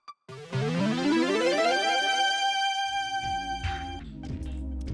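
Analog synth lead, the "mic lead" preset from an Analog Lab bank, plays alone as a bright harmonic tone that swoops upward in pitch, holds a sustained note, and then continues over low rhythmic bass notes.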